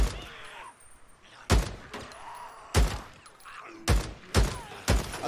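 Gunfire in the open-world zombie game Days Gone, with six loud, sharp shots spaced irregularly about a second apart, each with a short echoing tail over a quiet background.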